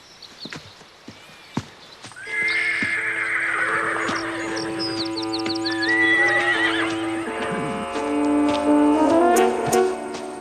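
A horse in a stable gives a long, loud whinny, and hooves clip-clop close by beneath it, with a few sharp knocks just before.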